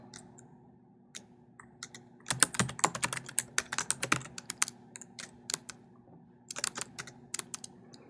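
Quick bursts of keystrokes on a computer keyboard as a property street address is entered, clustered clicks with short pauses between words, close and fairly quiet against a low room hum.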